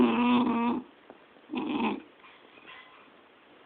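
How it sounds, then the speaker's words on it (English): A dog growls low and close in two short rumbling bursts separated by a quiet pause, with a faint whimpering edge, no speech over it. "What is that growling noise?"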